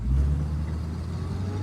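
A Chrysler Fluid Drive car in low range easing off as the clutch is let out, a low engine drone that swells briefly and then settles to a steady hum.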